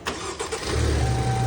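A Range Rover Evoque cranks briefly after a timing chain replacement and fresh oil, then catches and settles into a loud, steady idle close by, alone with no talking.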